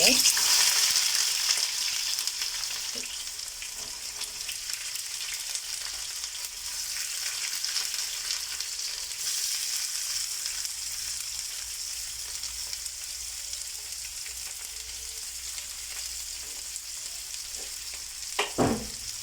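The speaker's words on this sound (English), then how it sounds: "So I think my oil is hot enough. I'll just add in my onions into the oil." Onions fry in hot oil, giving a steady, close sizzle that runs unbroken for the whole stretch, with a brief louder crackle near the end and no talking.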